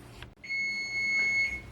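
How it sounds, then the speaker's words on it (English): A kitchen timer goes off for a baked peach cobbler, emitting a steady high-pitched electronic beep that holds through most of the moment, clear over quiet room sound. "Okay, timer's gone off."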